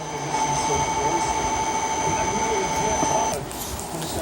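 A runaway Southern train rumbles steadily with a loud, continuous rolling roar and a sustained high whine, the noise dropping somewhat near the end.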